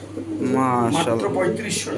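Racer pigeons coo in low, throaty rolling calls close by, with people talking over them at a busy pigeon sale.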